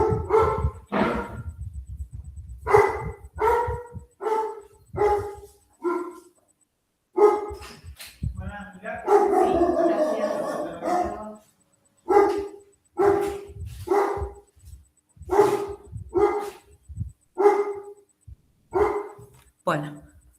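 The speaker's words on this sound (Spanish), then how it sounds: "por eso ladraban tanto los perros" Several dogs bark loudly and repeatedly in short bursts, close by and clear, with a brief stretch of overlapping barking and whimpering in the middle.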